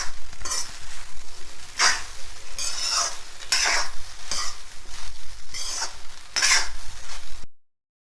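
Leftover rice being stirred and mixed in a hot frying pan, with repeated scraping strokes of a spoon against the pan over a soft sizzle, loud and close, with no voices.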